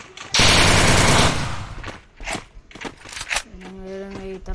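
An MP40 fires in the Free Fire mobile game: a loud, rapid automatic burst of about a second, followed by a few scattered single shots and clicks, then a tonal game sound at the end.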